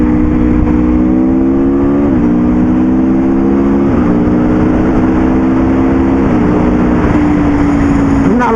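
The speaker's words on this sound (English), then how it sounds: "the quick shifter basically means you can keep your throttle open and then just change gear" A motorcycle with a quick shifter accelerates under open throttle, its engine note climbing steadily and dipping briefly at about two, four and six seconds as each upshift clicks through, loud and close with no talk.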